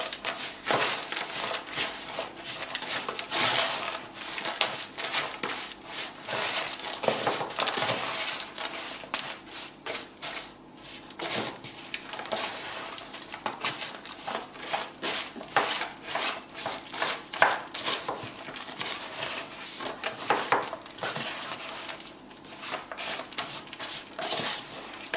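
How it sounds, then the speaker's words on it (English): Spoonfuls of honey being stirred into a healthy snack mix, heard as steady sticky scraping and rubbing of a spoon through the coated pieces, close and continuous with small irregular clicks. "So I'll just put 2 large spoonfuls of honey with it, and I'm going to mix it to see what the consistency is."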